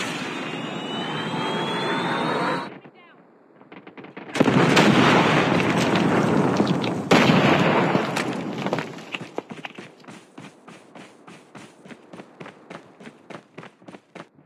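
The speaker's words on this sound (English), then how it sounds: "Predator missile inbound." Predator missile strikes in Call of Duty Mobile multiplayer, with a loud roaring rush, a sudden cut, then a heavy blast and rumbling explosions fading into a rapid, even train of ticking pulses.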